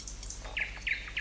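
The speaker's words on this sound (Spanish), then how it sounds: "¡Es un pájaro!" A small bird gives a handful of high, thin chirps in quick succession, close and clear against a quiet background.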